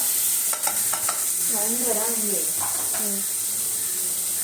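Squid and cassava masala sautéing in a pan before tomato goes in, a continuous hissing sizzle with stirring scrapes as people talk over it.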